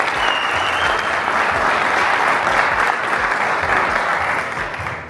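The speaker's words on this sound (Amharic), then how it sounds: "ጭብጨባውን እንደ እንኳን ደህና መጣ ቆጥሬ እንኳን ደህና ቆያችሁ" A crowd at an event in Addis Ababa applauds a young guest being welcomed, loud continuous clapping that stays full for several seconds before easing slightly at the end.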